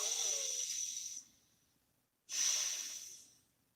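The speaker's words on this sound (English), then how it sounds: "Breathe." Two deep, airy breaths sound close and clear: a long hissing exhale fades away, a short silence follows, then another strong breath rushes in and slowly trails off.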